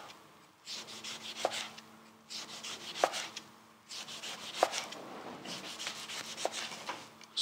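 A knife cuts fresh oranges into thin slices, making rhythmic rubbing, sawing strokes that come in repeated bursts. Each burst ends in a soft tap on the board, close and fairly quiet.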